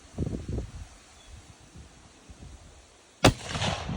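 A single sharp gunshot from a 1913 Swedish Mauser rifle cracks outdoors, loud and sudden, followed by a short rumbling echo and soft background rustle.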